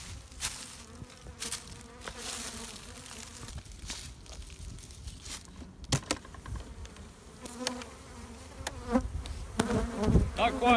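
Honeybees swarm around their hive colonies while honey supers are added, filling the air with a dense, close, continuous buzz as individual bees zip past the microphone, with occasional faint clunks of hive equipment.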